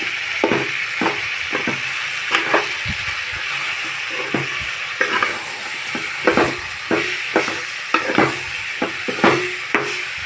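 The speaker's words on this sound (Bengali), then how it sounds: "এখন খুব সুন্দর করে কষিয়ে নিতে হবে, অর্থাৎ নাড়াচাড়া করে একটু শুকনো শুকনো করে নিতে হবে" Ground spices with turmeric being stirred and dry-roasted in a pan while making a Bengali-style pickle, with a steady soft sizzle broken by irregular scraping strokes of the spoon, close and moderately loud with no talking.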